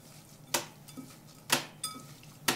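Rice ball mixture with carrot, cucumber, sesame seeds and sesame oil being stirred: three sharp utensil clinks against a bowl at roughly one-second intervals over a quiet background of soft scraping.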